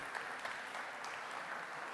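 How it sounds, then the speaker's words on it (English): Audience at a blockchain conference stage in Barcelona applauds as panelists walk on, a continuous, fairly faint wash of clapping with no break. "give them all a round of applause as they come on stage"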